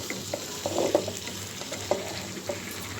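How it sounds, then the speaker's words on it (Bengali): Pigeon meat and potatoes stir-fried with spices in a pan, with a soft steady sizzle and scattered scraping stir strokes clustered near the start and recurring a few times, moderately close. "এটাও ভালো করে মশলার সাথে ভালো করে কষিয়ে নিব মাংসটার আলুটা"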